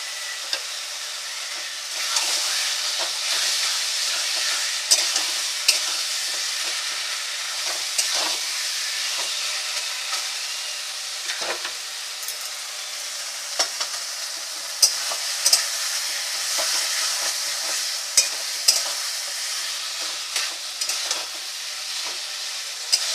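Prawns stir-fry with chopped taro leaves in a pan, giving a continuous bright hiss of frying oil broken by frequent scraping and clacking strokes of a stirring spatula, close and steady, with no talk.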